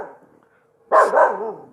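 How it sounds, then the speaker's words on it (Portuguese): A dog barks in a short close burst after a quiet stretch, loud and harsh, following a faint low murmur. "Senão ela não para de latir."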